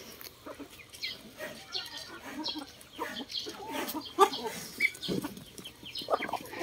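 Large Rhode Island Red chickens cluck in short, scattered calls across a farmyard, fairly quiet and close, with a few sharper squawks.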